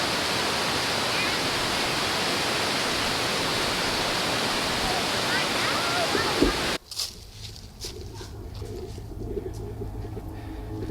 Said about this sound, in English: Shohola Waterfalls.